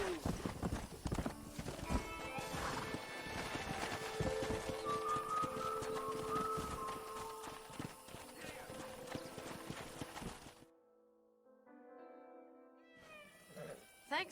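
A stallion's hooves clip-clopping at a steady rhythm in the Red Dead Redemption video game, with neighing and whinnying over the hoofbeats and a brief voice, before the sound drops away, then returns faintly.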